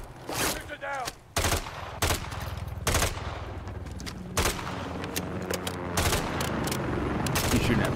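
Call of Duty: Modern Warfare 3 gunfire: sharp, loud bursts of automatic fire arrive in separate blasts with short gaps between them, then blur into a steady, continuous firefight toward the end.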